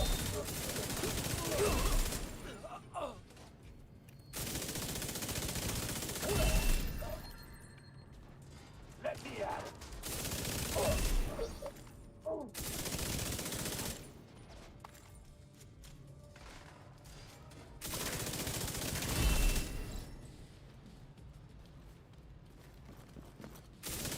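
Gunfire in a shooter video game comes in repeated bursts a few seconds long, separated by quieter gaps with faint mechanical clicks, and a voice talks in between.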